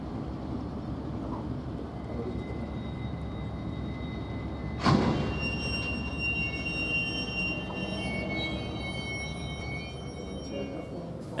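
Southern Pacific locomotive rolling through a vast rail yard at North Platte, Nebraska, a steady low rumble with a sharp metallic clank midway and faint squealing tones afterward, heard from a distance.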